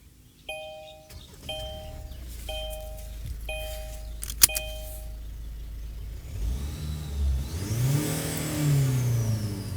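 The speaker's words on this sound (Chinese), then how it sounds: "这个就是柴油引擎带给你的一种声浪" A 2023 Kia Sorento AWD diesel SUV with an 8-speed dual-clutch gearbox: five evenly spaced warning chimes ring first, then the engine fires and revs up with a rising, swelling roar, close and fairly loud, with no talking.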